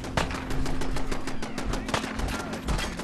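Rapid automatic fire from a turret in the video game Fallout 4, a continuous loud rattling stream of shots with a few heavier bangs mixed in.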